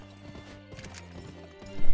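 Horse hooves clip-clopping at a steady trot in the western shooter game Gun, with a whinny partway through, a soft voice briefly underneath and a louder thump at the end.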